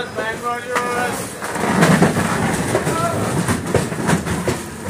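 Train at Virangana Lakshmibai Jhansi railway station on the Udhyog Nagri Express route, with rumbling wheels and steady clickety-clack rail noise running throughout, fairly close and loud, under a mix of voices and station bustle.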